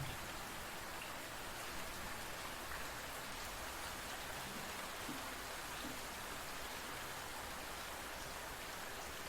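Steady rainfall in a forest forms a dense, constant hiss of drops striking leaves and soil, evenly loud throughout with no pauses and no voices.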